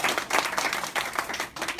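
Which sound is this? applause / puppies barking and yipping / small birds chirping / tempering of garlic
applause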